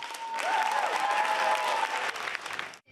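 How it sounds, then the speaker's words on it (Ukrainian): A concert hall audience bursts into an ovation after a performance, dense sustained applause that swells and holds loudly, with a tonal musical note ringing underneath before cutting off abruptly near the end. "Зал вибухає оваціями."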